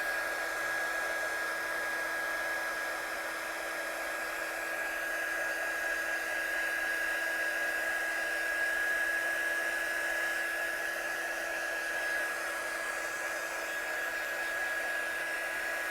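A hair dryer blows on a watercolour painting with a steady, loud, continuous whine and airflow that holds unbroken throughout, with no voices.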